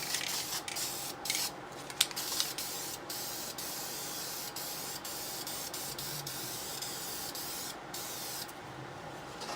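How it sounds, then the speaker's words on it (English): Spray paint hisses steadily onto car headers as a thin coat of high-temperature paint goes on, a continuous close spray with brief breaks and small clicks. "we're going to start spraying it with our high temperature paint"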